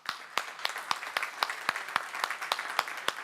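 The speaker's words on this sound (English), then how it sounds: "Yes, they deserve a great round of applause," Audience applause at a public administration conference, a sparse round of hand claps in the hall, steady and fairly quiet, with no one speaking.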